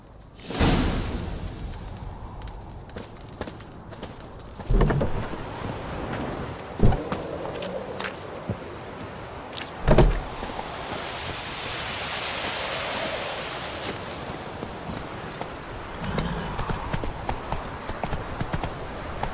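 Geralt's horse Roach galloping in The Witcher 3, rapid hoof clip-clop over rushing wind, with a few heavy thuds and a spoken line along the way.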